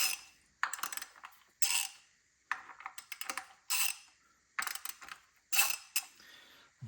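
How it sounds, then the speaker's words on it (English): A 10 mm wrench works loose the nuts on a water pump and power steering pump, giving sharp metallic clinks and ratchet clicks in short separated bursts with quiet gaps between, close and alone. "I'm going to loosen the nuts on the water pump and the power steering pump so I can actually get the pulleys off"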